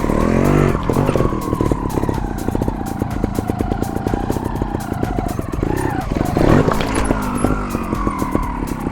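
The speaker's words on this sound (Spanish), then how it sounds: "me asomo para ver correctamente la bajada, hundo la suspensión delantera, tiro ligeramente del manillar para adelantar la caída de la rueda delantera" A trial motorcycle engine revs in rapid throttle pulses while riding down a drop, loud and close, with a rising surge of revving partway through.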